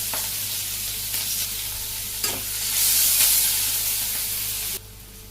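Sliced onions sizzling in hot oil with bay leaf, cumin and dried red chilli, a loud close steady frying hiss with stirring scrapes, rising briefly to a sharper spray-like crackle before dropping off abruptly near the end.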